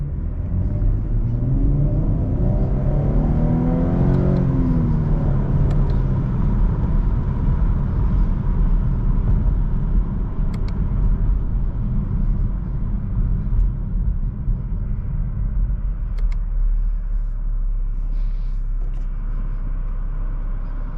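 A Chevrolet Camaro V6 drives with paddle shifters, giving a steady engine rumble and road noise throughout, with a brief rising rev early on.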